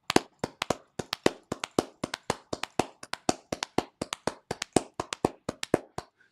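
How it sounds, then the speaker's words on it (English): Sharp, isolated hand claps land one after another in a quick, evenly paced double-time rhythm, about two dozen close and crisp strikes with silence between each. "I'm gonna clap twice per clap."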